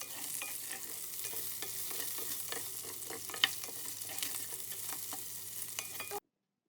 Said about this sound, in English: Like I said, don't be worried if it sticks on the pan. Just keep stirring.